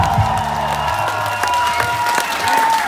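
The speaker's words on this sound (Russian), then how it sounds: "Это вы себе хлопаете." An audience claps steadily at a rooftop acoustic concert in Saint Petersburg, with loud, continuous applause mixed with scattered cheers and whoops from a close crowd.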